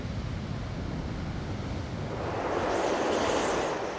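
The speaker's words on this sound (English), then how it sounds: "a storm is battering the coastline with powerful waves and 100-mile-per-hour winds" Storm surf and strong wind battering the Fiji coastline, a continuous broad roar of crashing waves and gusting wind that swells louder toward the end, with no voices.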